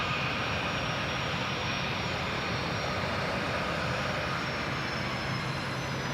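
An Endeavour airliner takes off from runway 23, its engines a steady, loud broadband roar that holds evenly throughout, with no voices over it.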